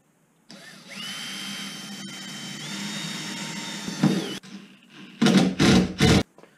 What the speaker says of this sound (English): first you've got to drill a pilot hole